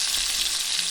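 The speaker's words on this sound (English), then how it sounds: "letting the butter soak and frying the bread to golden" Bread fries in butter in a pan, giving a continuous close sizzle with faint crackles, steady and alone without any speech.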